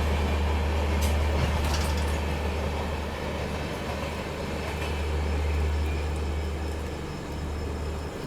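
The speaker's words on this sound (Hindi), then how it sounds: "यहीं पर खड़ी हुई है अपनी ट्रेन। अब चलनी शुरू हुई है धीरे धीरे।" A passenger train near a bridge before Ghaziabad begins creeping forward from a stop, a strong low hum droning beneath scattered metallic clanks and squeals, steady and close.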